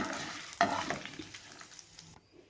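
Peanuts and dals sizzle in hot oil in a pan while being tempered for lemon pulihora, a steady close hiss with stirring scrapes and clatters, fading out near the end with no talking.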